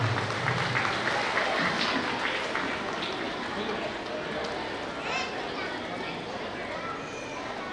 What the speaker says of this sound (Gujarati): તાળીઓ પાડવામાં આપણે કચાશ રાખીશું નહીં